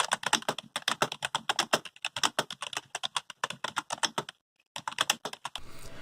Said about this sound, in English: Pressing the keys down slowly does reveal some of the mushiness you'd expect from a membrane keyboard